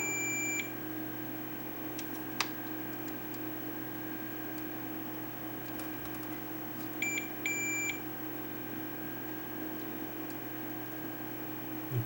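Multimeter continuity beep while probing pins on a Panasonic PV4760 VHS VCR during component-level troubleshooting: a steady high electronic tone with a few short beeps around it, over a constant low background hum, no talking.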